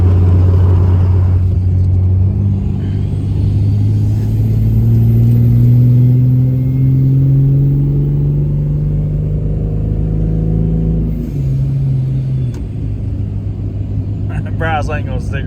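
A heavy GMC pickup truck engine, a 6-liter with a tune and aftermarket exhaust, revs and holds high, its pitch climbing steadily, then drops and surges again; a loud, close, continuous roar with voices mixed in.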